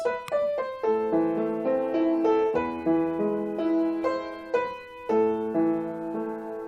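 Solo piano plays a short melodic phrase from Für Elise, clear separate notes over sustained lower harmony, with several distinct attacks spread across a few seconds.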